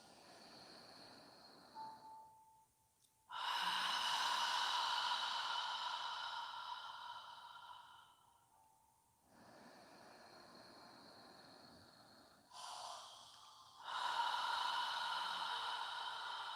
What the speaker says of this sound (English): Inhaling through your nose and exhaling through your mouth as if you're fogging a mirror with your breath.